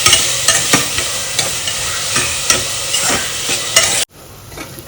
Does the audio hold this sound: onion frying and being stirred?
yes